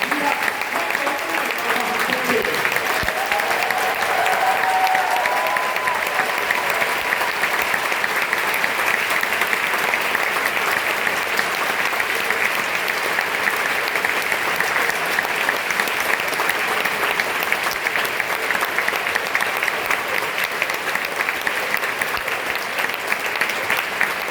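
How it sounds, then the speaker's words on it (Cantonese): An audience in Hong Kong City Hall applauds the composers after a choir concert: sustained, dense clapping from a large crowd, steady and loud throughout, with a few voices faintly mixed in. "將你哋最熱烈嘅掌聲獻俾咁多位作曲家"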